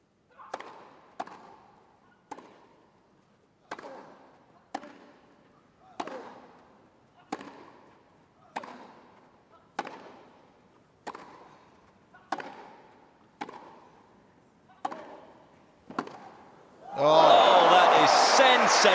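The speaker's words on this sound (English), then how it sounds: "She loves that little kick jump backhand." Tennis backhands struck one after another at Wimbledon 2024, about a dozen sharp ball impacts spaced roughly every second and a half, fairly close and crisp, ending in a burst of loud crowd cheering and applause.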